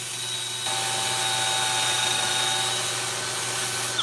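A wood lathe spins while a bowl is sanded, giving a steady whining hum with sustained tonal lines and a slight shift in pitch early on, continuous and close with no talk.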